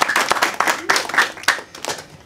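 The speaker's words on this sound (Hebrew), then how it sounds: "מחיאות כפיים." An audience at a public discussion evening on corruption claps; a burst of close, dense applause that swells in several uneven waves and fades toward the end, with no speech.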